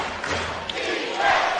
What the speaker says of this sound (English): Defence is the cry from the home crowd.